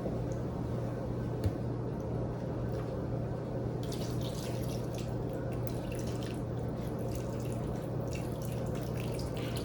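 Broth poured into cornbread dressing makes a continuous close trickle and drip of liquid, soft and steady for several seconds, with a low steady kitchen hum underneath and no talking.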